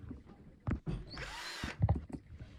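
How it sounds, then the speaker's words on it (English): A power drill bores a hole in a metal try square for a countersunk rivet, with a short whirring burst of about a second between softer knocks and handling noises, close by and fairly quiet. "I'm just preparing to drill out the hole that I can countersink"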